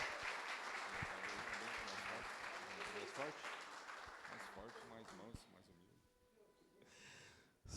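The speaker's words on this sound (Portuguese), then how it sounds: "Você recebeu o servo do Senhor com palmas para Jesus" A church congregation at a family worship service claps for the visiting preacher, a fairly faint round of applause mixed with voices that thins out toward the end.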